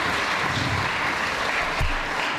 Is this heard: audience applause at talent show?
yes